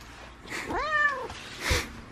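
A house cat gives a single clear, drawn-out meow at close range, rising and then falling in pitch, with faint room noise and a soft thump shortly after.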